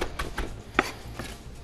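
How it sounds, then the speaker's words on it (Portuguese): Fresh herbs are chopped by hand with a knife on a board, a few crisp, evenly spaced taps close up in a kitchen, with no speech over them. "A gente pega as ervas aqui. Estou só picando na faca."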